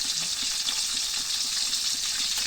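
Shrimp fry in a hot pan, giving a steady, close, hissing sizzle with faint crackles throughout and no voices.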